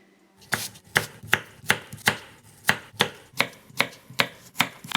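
A kitchen knife chopping food on a cutting board in an apartment kitchen, about a dozen crisp, loud knocks in a steady even rhythm, each followed by a short decay, with no voices.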